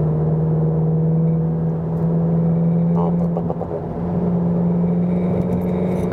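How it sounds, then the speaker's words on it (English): A Seat Leon Cupra 300 hp AWD with DSG cruising in 6th gear gives a steady low engine drone that hums continuously inside the cabin, with faint tyre and road noise. "There was a low frequency sound from the 6th gear."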